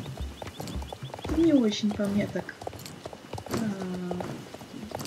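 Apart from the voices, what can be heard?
Jorvik wild horse hooves trotting in video game Star Stable Online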